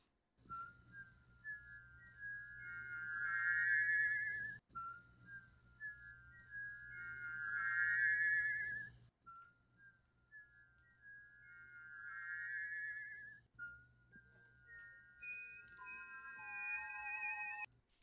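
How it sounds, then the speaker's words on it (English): A man whistles a bright melodic tune in three repeated phrases with short gaps, clear and close over a faint low hum. "a buddy of mine posted a video of him whistling"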